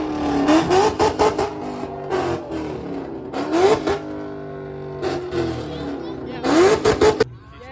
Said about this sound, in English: I'm pretty done with all this popping and banging on loud cars